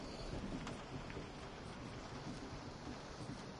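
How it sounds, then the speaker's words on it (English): Steady rain from the horror video game Resident Evil 7 falls across the whole stretch, a dense even wash of patter with no voices over it. "Oh no, it's raining."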